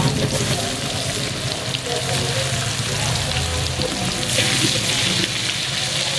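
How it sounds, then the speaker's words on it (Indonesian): Tempe frying in hot oil gives a loud, continuous sizzle with a crackling, rain-like hiss that swells slightly toward the end. "Habis numis kita goreng tempe."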